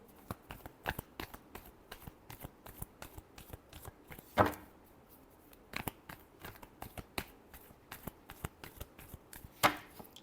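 Tarot cards shuffled by hand in a quiet room, a rapid run of crisp riffling clicks and slaps, close and alone, with two louder bridging snaps partway through.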